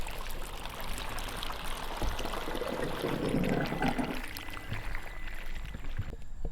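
A MYBOT C1 cordless robotic pool cleaner works along the water line of a pool with glass tile walls, giving a continuous soft splashing and churning of water that swells midway, fairly quiet and with no talk.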